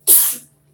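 A single short, breathy sneeze, loud and close, over quickly.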